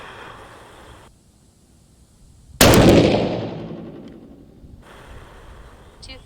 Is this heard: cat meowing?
no